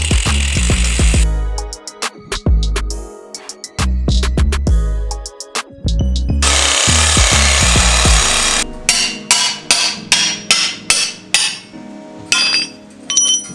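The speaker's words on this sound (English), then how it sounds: "We now have the standard flange chopped off the manifold." A power tool cuts the old stock flange off a Mitsubishi Lancer turbo exhaust manifold in a garage, with loud grinding bursts, sharp metallic clinks and hammer-like knocks, then a fast run of rhythmic cutting strokes toward the end.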